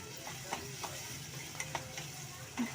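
Tomatoes being stirred into onion, chilli and coriander in a hot pan, a low steady sizzle with several light scraping taps of the spoon, fairly quiet and close.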